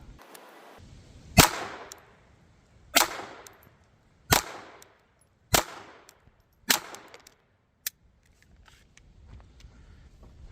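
Six sharp rifle shots crack out at evenly spaced intervals of about a second and a half at a shooting range, each report loud and close with a short fading tail, the last one clipped and brief.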